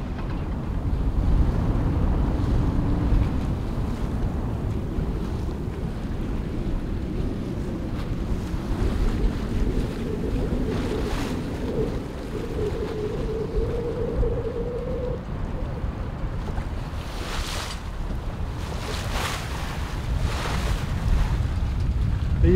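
Gusty wind roars over a sailboat arriving at night near Gibraltar, with waves washing against the hull. Constant loud wind buffeting on the microphone persists throughout, and a faint tonal whine rises midway.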